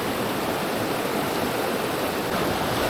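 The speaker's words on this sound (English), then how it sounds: "Now this is a fun little pool. Very fast, kind of deep actually" A fast, fairly deep pool on Little River in the Smoky Mountains rushes with a dense, constant roar of flowing water, close and loud with no break.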